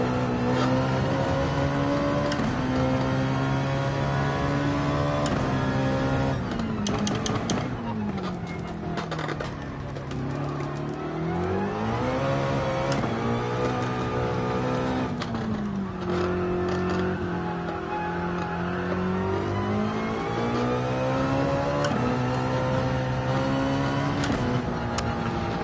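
Race car engine in Gran Turismo 7 revs continuously through a time trial, pitch climbing and dropping with gear shifts and corners, loud and sustained throughout.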